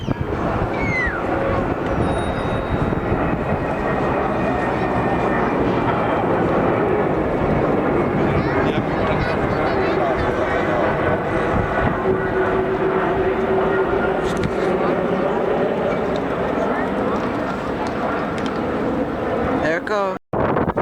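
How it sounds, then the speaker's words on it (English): A Delta Boeing 767-400 airliner flies past near an airport, a loud sustained jet roar that swells and holds before a sudden cut at the end, with a voice speaking over it. "Here comes a Boeing 767-400 Delta."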